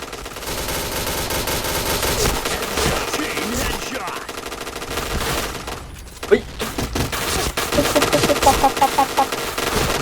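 Dense automatic gunfire from the online shooter Point Blank rattles in rapid, loud bursts that continue almost without pause.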